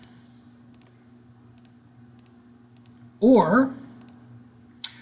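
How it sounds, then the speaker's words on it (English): Light clicks of keys being pressed on a calculator, a few sparse taps near and quiet, with a brief spoken word in between. "We can type that into our calculator"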